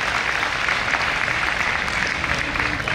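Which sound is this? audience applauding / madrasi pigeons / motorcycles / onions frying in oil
audience applauding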